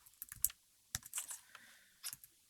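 Typing on a computer keyboard: close, crisp keystroke clicks in short irregular bursts separated by brief pauses, with no talking.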